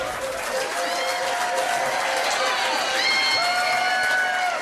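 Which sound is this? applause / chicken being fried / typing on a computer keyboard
applause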